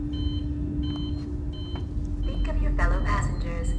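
In the video game Alien: Isolation, a repeated electronic beep pulses at an even rhythm under a person's talking, and other game sounds grow louder toward the end.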